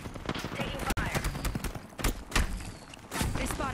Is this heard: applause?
no